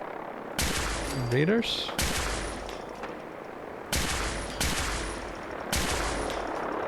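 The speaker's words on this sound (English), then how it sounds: "They are shooting something that's over there." Gunfire in the video game Fallout 4 comes as several sharp, loud bursts spaced a second or two apart, with a person speaking briefly between the shots.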